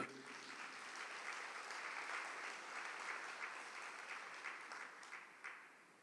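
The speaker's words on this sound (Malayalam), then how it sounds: "ഒന്ന് കൈയുയർത്തി കൈയടിക്കുക" Audience applause at a church talk by a Catholic priest, steady and continuous clapping from a crowd, moderately distant and fairly faint, holding for several seconds.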